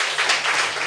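Congregation clapping for Jesus during a church sermon, a short dense burst of many hands applauding together at close range.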